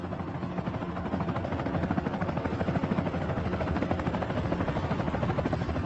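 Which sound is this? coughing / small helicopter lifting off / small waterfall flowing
small helicopter lifting off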